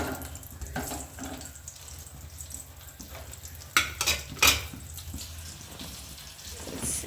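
Crushed garlic frying in hot oil in a cooking pot gives a soft, continuous hiss with a few sharper clanks and scrapes partway through; no voices are present.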